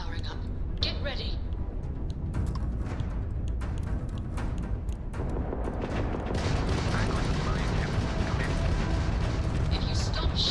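Ship weapons firing in the space video game Starfield, a dense, continuous barrage of rapid gunfire and blasts, loud and steady throughout, with speech layered over the combat.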